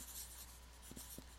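Pen writing on graph paper: a few soft, brief scratching strokes, close and quiet, in an otherwise hushed room.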